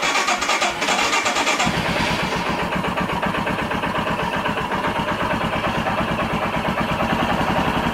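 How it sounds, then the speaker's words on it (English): Royal Enfield Himalayan motorcycle engine with its idle screw turned up, cranking briefly then catching and settling into a loud, steady, rapid thumping idle close by. "let's go ahead and start it and let's see what it sounds like"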